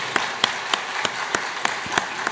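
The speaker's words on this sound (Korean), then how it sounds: "큰 박수 부탁합니다" A church congregation claps during a Sunday service, a steady patter of scattered hand claps with a few sharper individual claps standing out at regular intervals, moderately close.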